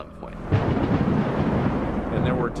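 Deep rolling thunder from a tornado-producing thunderstorm rumbles loudly and continuously, building after a quieter start and sustained over the whole stretch.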